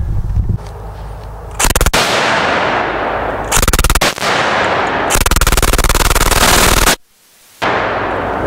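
A Yugo M53 machine gun converted to 7.62x39mm fires several long, loud automatic bursts of rapid shots, separated by brief pauses and echoing outdoors.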